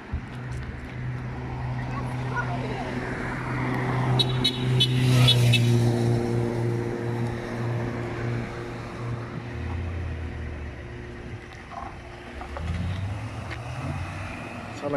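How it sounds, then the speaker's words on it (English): A classic Morgan car with a V8 engine drives past at a classic vehicle festival in Tewkesbury, its low engine rumble swelling as it nears and fading away, with crowd chatter and voices in the background. "Sound like a V8, there we are."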